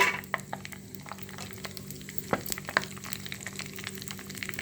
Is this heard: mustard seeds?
yes